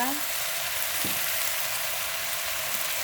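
Plain noodles fry in a pan with a steady, even sizzle and hiss that holds unbroken for the whole stretch, close and moderately loud, with no talking over it.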